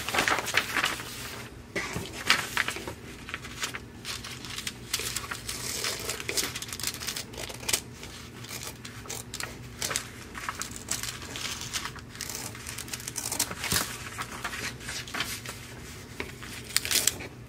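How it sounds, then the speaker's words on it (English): Scissors trim excess fabric from a sewing project, producing soft crinkling snips and rustles in irregular bursts, quiet and close, with no voices. "So I'm just gonna blend those together like that, and you just trim off the excess."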